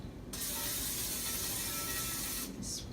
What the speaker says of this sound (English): I like an olive oil spray.